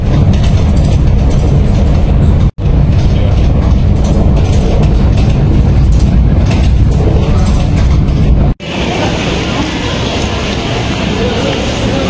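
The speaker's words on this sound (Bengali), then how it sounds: "তখনই দেখি ট্রেন আসতেছিল" A passenger train pulls into a station, heard from close by as a loud, constant heavy rumble and rattle, with two abrupt cuts and a slightly thinner, lighter roar toward the end.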